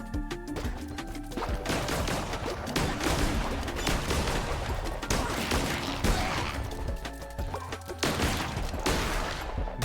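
Rapid, dense gunfire from a super fast gun in the video game Cult of the Lamb, with continuous crackling bursts and crashing hits layered over game music, loud and sustained throughout.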